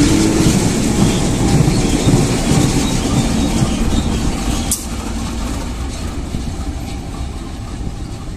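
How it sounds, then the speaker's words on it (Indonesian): Garut–Cibatu train departing Garut station, a steady loud rumble of rolling rail cars and engine with a sharp metallic squeal midway, after which the noise eases slightly. "bertanda kereta Garut Cibatong sebentar lagi akan segera diberangkatkan menuju stasiun"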